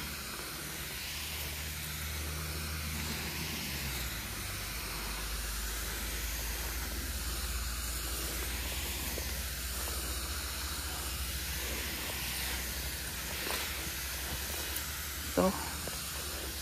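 A garden sprayer mists fungicide over green bean plants, making a steady, close, broadband hiss that runs without a break throughout, with a faint low hum underneath.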